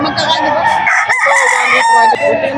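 A young gamecock stag crows loudly and close by at the Bocaue pet market in one drawn-out cock-a-doodle-doo with a short cluck near the end, while voices chatter faintly behind it.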